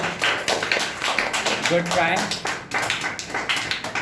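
Audience clapping for a student speaker at a public speaking competition on nature, with scattered claps running under an adult voice speaking briefly.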